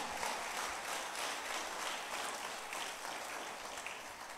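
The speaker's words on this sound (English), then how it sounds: "Clap unto the Lord." A church congregation claps along, a dense continuous patter of many hands heard from some distance, fairly faint and steady.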